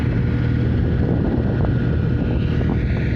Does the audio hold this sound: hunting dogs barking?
no